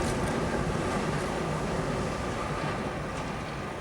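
Trains running through a heavy snowstorm during the 2015 blizzard give off a steady, broad rumble and hiss that holds at an even loudness throughout, with no voices over it.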